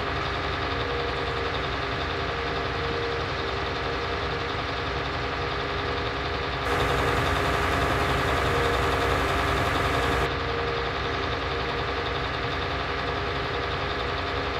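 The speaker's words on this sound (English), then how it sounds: "Almost sounds like a two-stroke engine." A tractor engine idles close by in a continuous, loud, steady drone with a dense rattling texture, like a two-stroke, holding even throughout with a slight brightening partway through and no talk.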